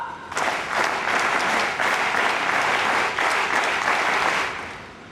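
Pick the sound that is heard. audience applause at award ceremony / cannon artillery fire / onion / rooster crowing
audience applause at award ceremony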